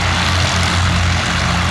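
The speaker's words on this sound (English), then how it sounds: "Very interesting airplane, the Fokker S-11." A Fokker S-11 propeller trainer flies past at a Duxford summer airshow, its piston engine and propeller giving a loud, steady drone that stays constant and close, with no voices over it.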